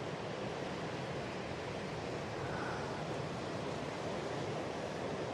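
Steady ocean surf washes on with no pause, a broad, even roar of water that stays faint and distant throughout, free of voices.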